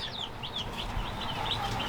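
Chickens on a small farm cluck and chirp in short, repeated calls, fairly close and moderately loud over a low, steady background rumble.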